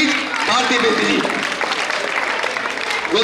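An audience claps warmly for an honoree at a yoga awards ceremony in India, a dense, steady wash of applause running throughout with a voice speaking over it.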